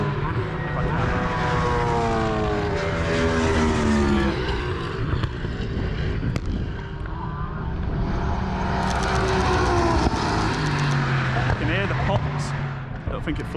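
A Lamborghini Huracan race car, the kind that spits flames from its exhaust, roars past on a circuit with rising and falling engine harmonics. The engine note is loud and continuous, and people talk over it.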